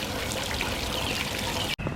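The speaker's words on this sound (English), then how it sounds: "I turned the water off because I didn't want to just be running water when she wasn't using it" Water from a tap or hose sprays and pours in a continuous broadband hiss, close and steady, then briefly cuts out near the end before resuming.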